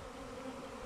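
A honey bee swarm buzzes steadily around a tree branch swaying in the wind, a dense continuous drone that stays close and fairly loud, with no voices.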